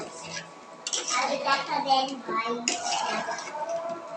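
Chicken curry with potatoes and green chilies being stirred in a pot, with close metallic scraping and clinking of a spoon against the pot, steady and continuous, with some voice faintly present.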